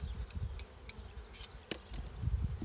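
Honeybees at an open hive with full supers, a soft, continuous buzzing swarm close by, individual bees droning past now and then.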